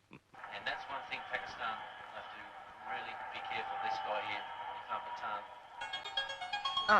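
A person talks for several seconds, then a melodic electronic ringtone starts near the end and grows louder.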